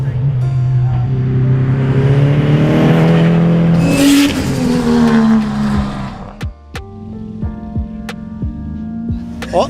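A Nissan S14 200SX fitted with an RB26 engine and sequential gearbox races at a hillclimb, its loud engine droning and climbing through revs before sharp shift cracks and pops follow, with a voice over the top.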